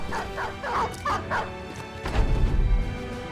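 Several dogs bark and yip in the video game Battle Brothers, a quick run of sharp barks early on, then a heavier crash and rumble of combat noise takes over.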